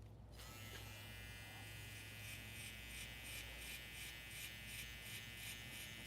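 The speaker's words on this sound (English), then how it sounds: "for a 0 gap trimmer, to cut as good as this is, I'm very happy with it" A zero-gap hair trimmer buzzes continuously and close up at a steady pitch, with a faint pulsing rhythm as it cuts hair, no voices over it.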